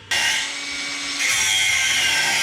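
A stainless boost pipe coupler for a turbocharged Mercruiser 140 boat engine gets trimmed with a loud, steady power-tool whine that starts abruptly and grinds on continuously, rising slightly in intensity partway through.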